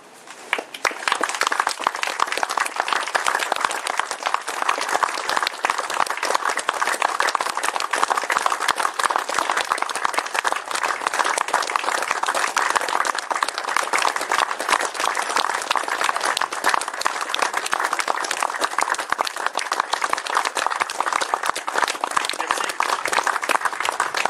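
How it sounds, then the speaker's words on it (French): A crowd holds a long, sustained round of applause in tribute to three deceased sportsmen at an outdoor event, dense rapid clapping continuing steadily and evenly for the whole stretch. "je vais vous demander de faire une longue minute d'applaudissements"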